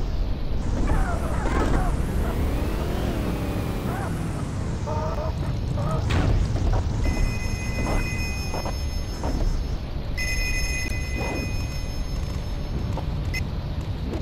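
A phone rings in the mobile game Payback 2, a repeated electronic ringing heard over car engine rumble and other game sound effects.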